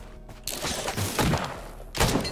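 Several loud bursts of gunfire in quick succession in the video game Risk of Rain 2, sharp noisy blasts with short gaps between.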